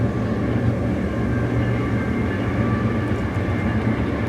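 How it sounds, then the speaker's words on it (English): A loud train rolls past nearby, its heavy rumble and steady mechanical drone holding level without a break, with no talking on top. "There's a very loud train."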